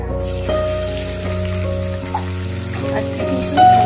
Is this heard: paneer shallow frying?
yes